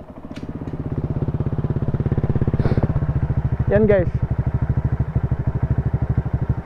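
A Honda Click 125i scooter fitted with a T4S exhaust pipe idles steadily without revving, its pulsing putter loud and close throughout while someone talks briefly over it.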